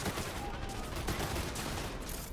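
Gunfire in the Cyberpunk 2077 video game, a steady dense wash of shots and battle noise running under the whole moment with no clear single reports standing out.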